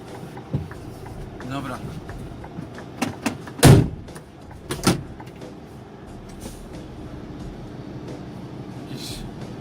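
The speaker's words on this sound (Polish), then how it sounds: "Trzeba wyskoczyć, jeszcze drzwi zamknąć na," Doors on a UK lorry being shut during a reversing job at a loading ramp, giving several sharp slams and bangs, one loud thud standing out amid background rumble and someone talking.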